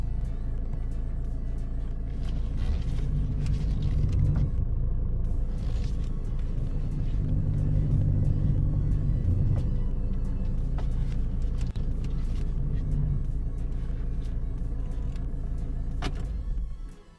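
A car engine idles steadily after the ignition is switched on during a power-steering calibration, a low continuous rumble held close and even for the whole stretch before cutting off at the end.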